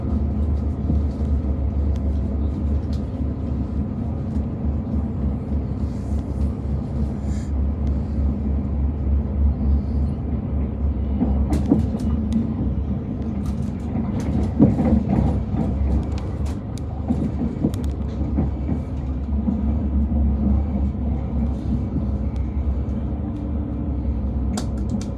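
A train rumbles into Moulton railway station, a steady low mechanical roar with rattling and brief clanks of wheels and carriages over the track, continuous and fairly loud with no voices.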